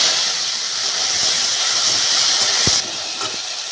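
Jujube fruits dropped into hot mustard oil in a heated wok, giving a steady loud hiss of frying with a brief crackle near the end before the sizzle settles slightly quieter.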